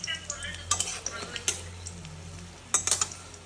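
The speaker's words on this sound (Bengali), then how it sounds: "একদম স্টিম কমে ভেজে নিচ্ছি যাতে একটু ক্রিস্পি ক্রিস্পি হয়।" Chicken pakoras fry in oil on low heat with a soft sizzle, broken by sharp metallic clinks of a spoon against the pan and a voice speaking faintly underneath.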